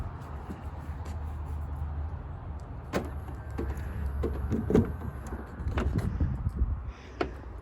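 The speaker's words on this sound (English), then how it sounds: "as you unlock the vehicle, the wind mirrors fold out, with it being the titanium model" A light blue 2009 Ford Fiesta 1.4 automatic Titanium unlocks, with a click and the soft whir of its electric door mirrors folding out, over faint outdoor background noise.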